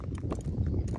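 Hooves of a 13-year-old quarter horse mare walk in a steady clip-clop rhythm, close and moderately loud throughout the short stretch with no talking.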